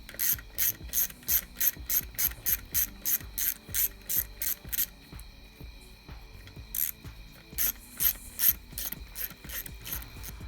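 A ratchet loosens the 8mm bolts on the oil level sensor of a 1987 Porsche 924S, giving rapid, even clicking strokes up close, a short pause, then a few more bursts.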